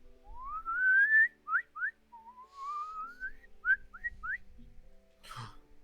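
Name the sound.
person imitating someone whistling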